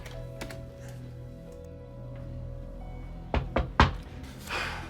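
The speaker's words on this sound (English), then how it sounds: "Who the heck is knocking at our door?" Knocking on a house door, a quick cluster of three or four solid raps near the end, heard over a steady low indoor hum.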